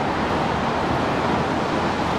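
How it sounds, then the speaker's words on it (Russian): A dense, steady wash of broadband noise, light rain and moderate wind outdoors at the Nizhegorodskaya transport hub in Moscow, fills the whole short clip loudly and without pause. "Идет дождь, но не сильный."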